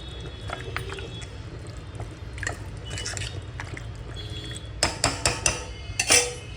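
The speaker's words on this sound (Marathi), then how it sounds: "ते मटण आता मी ह्याच्यात टाकते आणि परत आपण एकत्र करून 2 मिनटं बारीक गॅसवर एकत्र शिजून द्यायचं आहे" Marinated mutton goes into a pan for sook mutton and gets stirred together, with a run of wet squishing scrapes and several sharp spoon-on-pan knocks close by.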